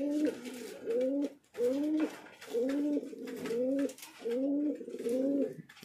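Fancy pigeons in a farm loft cooing in repeated soft, throaty phrases, about six rolling calls close by with short pauses between them.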